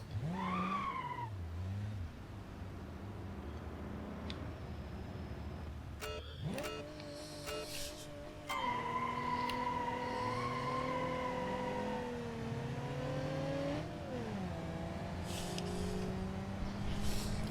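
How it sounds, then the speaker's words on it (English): A video game 200 BX car racing along curvy roads, its engine droning and shifting pitch as it revs up and down through bends, steady and close throughout with a few sharp bursts. "I will try and race a 200 BX through some curvy roads"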